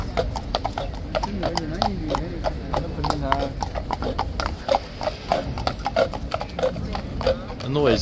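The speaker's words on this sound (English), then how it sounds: "Noise that the hoofs make, they're almost too heavy to lift up from the street. It just clops them along." Horse hooves clop steadily on a city street near the King's Guard, a regular rhythm of hard strikes running throughout, with people talking over them.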